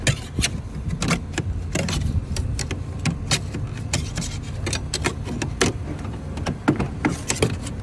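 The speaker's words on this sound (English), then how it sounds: "he can break into my truck in less than 5 seconds" Rapid metallic clicks, rattles and scraping at a locked truck door as it is broken into, close and busy, with several sharp knocks scattered through.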